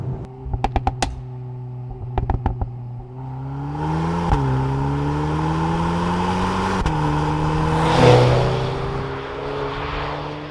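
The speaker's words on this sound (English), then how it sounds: "let me show you how this car drives and sounds" A Volkswagen Golf 8 R with an Akrapovic exhaust idles with a few sharp throttle blips, then pulls away and accelerates steadily through the gears, exhaust droning loudly throughout.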